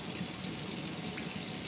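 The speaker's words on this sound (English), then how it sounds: "I'm using the water to cool the tomato" Tap water runs steadily from a kitchen faucet over a freshly cooked tomato, a continuous bright hiss and splash, close and fairly loud, with no talking.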